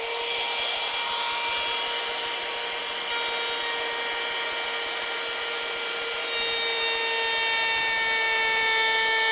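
A flush trim router cutting wood on a Lutyens bench, a steady high whine with sharp tonal harmonics and a rough lower rasp, continuous and close with a slight rise in pitch near the end.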